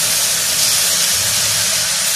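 Minced garlic, half a small spoonful, frying in hot oil in a pan for Turkish-style vegetable pottery, a loud steady sizzling hiss filling the whole moment without talk.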